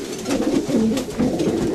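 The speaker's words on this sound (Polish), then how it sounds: "Także przepiękny gołąb." A pigeon coos close by in soft, low, rolling notes, two short phrases in quick succession over a slight background hiss.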